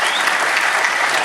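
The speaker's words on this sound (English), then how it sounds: "Let's give some applause for Solari's Zaku 2." An audience applauding a model kit reveal, a steady dense wash of many hands clapping at once, loud and continuous throughout without a break.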